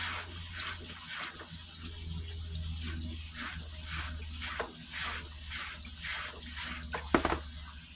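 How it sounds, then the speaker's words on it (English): Cold tap water runs steadily into a sink to rinse just-cooked food, a continuous even rush with a brief clatter near the end. "So I am just going to rinse this in cold water."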